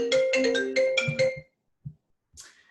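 A phone ringtone played back through a laptop, a short bright melodic run of tones ending abruptly, followed by a brief thump and a faint noisy swish.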